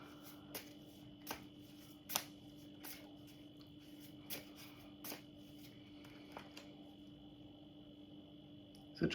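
Tarot cards are shuffled close by in a quiet room, a series of faint, sharp riffling snaps spaced a second or so apart over a steady low hum.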